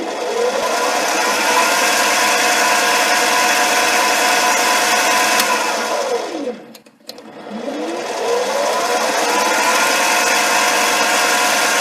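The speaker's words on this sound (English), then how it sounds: "first we'll bring our center drill up here and make a little starter hole" A mini lathe whines steadily while center drilling brass, the motor pitch dipping briefly as it slows and then climbing back up, loud and close, no voices.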